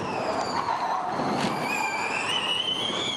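A Formula E race car slides through turn 15 at a street circuit in Rome during 2022 qualifying, its high electric whine rising in pitch over a steady broadband tyre and track rush, close and loud.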